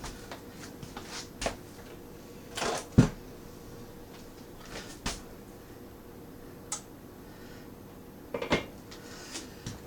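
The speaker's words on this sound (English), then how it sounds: "Get that lid off without burning yourself" A hot lid is lifted off a 425-degree Dutch oven while baking homemade bread, giving a few sharp metallic clinks and knocks at irregular intervals, moderately loud, with quiet kitchen background and no talking.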